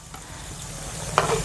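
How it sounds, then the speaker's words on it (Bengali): Pakan pitha fry together in hot oil with a soft, steady sizzle, broken near the end by a brief clink of a utensil. "সব পিঠেগুলোই একসঙ্গে ভেজে নেব"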